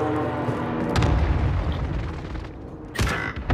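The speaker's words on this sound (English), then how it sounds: "we had a stealth bomb" Deep rumbling explosion from a stealth bomb in a battle royale video game, a loud booming blast sustained with low roar, then a second sharp burst near the end.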